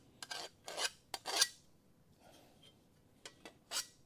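Metal file dragged backwards across a workpiece during a Charger restoration, making several short rasping strokes in two groups, close and fairly loud, separated by quiet pauses.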